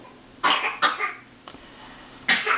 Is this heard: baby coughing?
yes